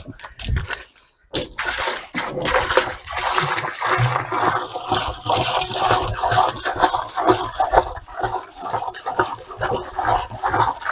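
Water splashes and pours irregularly while a vegetable garden is watered on a hot day, a continuous gushing spatter with sharp bursts and pauses.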